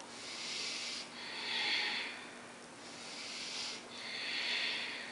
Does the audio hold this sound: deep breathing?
yes